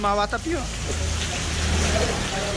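Heavy rainstorm drumming steadily on a Honda Civic LXR 2.0 while driving, a loud, continuous wash of rain and road noise that fills the whole stretch, with someone talking briefly over it at the start.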